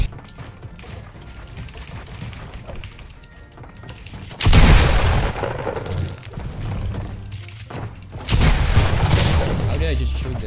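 Rapid bursts of gunfire in a Fortnite 1v1 pro playground match, loud and close, arriving in two dense volleys with mechanical clatter between, while a player talks over it.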